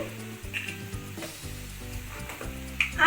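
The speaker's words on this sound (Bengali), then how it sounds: "জিরের গুঁড়ো দিয়ে এবার সমস্ত মশলা একসাথে আমি ভালো করে এখনই কষিয়ে নেব" Spices with cumin powder sizzle and fry in oil for a Bengali lote fish jhuri, with steady crackling and a few brief bright stirring scrapes, no talking.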